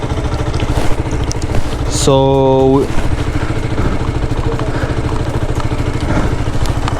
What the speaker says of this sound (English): we're going to be revving our bikes there. So let's see how it sounds, even though we don't have exhaust.